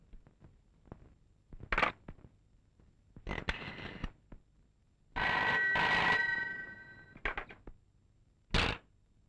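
A telephone rings on an outgoing call, with several separated bursts of ringing tone and one longer sustained ring, interspersed with faint clicks and handling thunks, close and fairly quiet.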